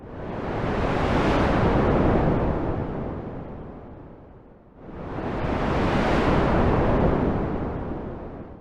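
A synthesizer patch with a filter envelope set for long attack and decay mimics ocean waves, producing two loud, slow swells of broadband noise that rise and fade like surf breaking, with no voices.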